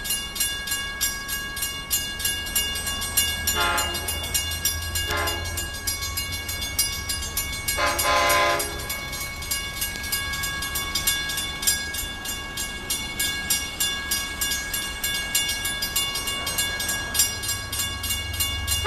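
A train at New Hyde Park station rumbles along steadily, with a sustained tonal hum above and a few short hissing bursts breaking through.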